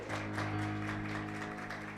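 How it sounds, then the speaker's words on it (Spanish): Congregation clapping an offering of applause during a church celebration service, a steady dense wash of many hands under sustained music, moderately distant and fairly faint. "Denle una ofrenda de palmas al Señor."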